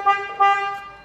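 Two short toots from the horn of a 2007 Isuzu Hi-Lander, a bright, loud, close-up honk sounded twice in quick succession.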